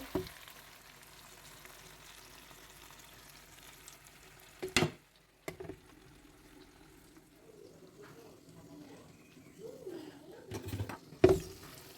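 Potato pieces go one by one into a pan of frying puti fish, giving a low, quiet sizzle with a few sharp clatters and bumps of stirring. Someone speaks softly at times.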